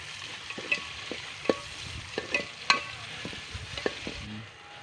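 Tomatoes fry in oil in a pan for a Tamil kendai fish curry, a steady close sizzle broken by several scraping, clattering strokes of a stirring spoon, with no voices.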